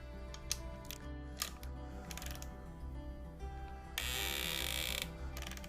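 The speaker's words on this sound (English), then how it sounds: "I can use my ratcheting mechanism while I torque using the angle feature" A GearWrench electronic torque wrench ratchets while torquing a bolt, giving a few sharp, separate mechanical clicks early on, then a louder burst of clatter later; close and fairly quiet, with no talk.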